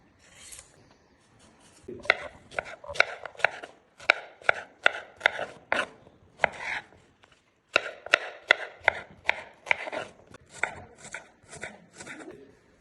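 Raw green plantain is peeled with a traditional hand-held country peeler in a home kitchen: a close, steady run of short rhythmic scraping strokes with a brief pause midway, and no voices.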